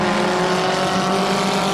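Mini Stock race cars scream past on a speedway oval in a heat race, a loud, sustained, buzzing engine roar holding steady throughout.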